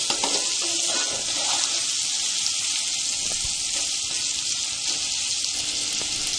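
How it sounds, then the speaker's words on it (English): Ginger garlic paste sautéing in a hot pan for a green peas curry, a loud, continuous bright sizzle holding steady throughout with no voices. "Just saute it for 1 minute till the raw smell goes."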